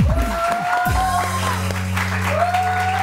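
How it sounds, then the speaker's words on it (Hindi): A studio audience on a Pakistani morning TV show applauds in a continuous dense patter, with music tones and voices running over the top. "तालियां यार ये होना चाहिए भाई"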